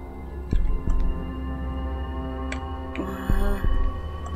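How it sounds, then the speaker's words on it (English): A heartbeat effect in the video game SCP Containment Breach Remake thumps in low, paired beats that come in two bursts, over a constant electrical hum and throbbing drone. "Why do I hear my heartbeat?"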